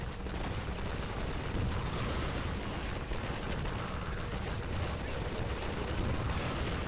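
Dense gunfire from a Garry's Mod survival battle, a steady barrage of overlapping shots filling the whole stretch at an even, loud level with no clear gaps.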